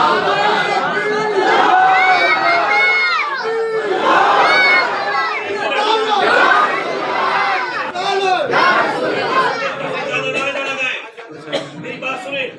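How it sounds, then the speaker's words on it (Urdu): A large crowd at a religious gathering raises loud, overlapping shouts and chant-like cries in bursts, sustained and close, fading somewhat near the end. "نعرے نہ لگائیں"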